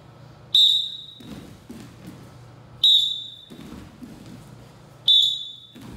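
Three sharp, loud whistle blasts from a wrestling coach during stance and sprawl drills, spaced about two seconds apart, with mat thuds and movement between blasts.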